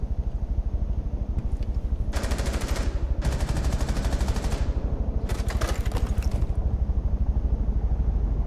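Automatic gunfire bursts in Rainbow Six Siege during a Border hostage team deathmatch, three rapid loud volleys over steady background game noise, with no talking.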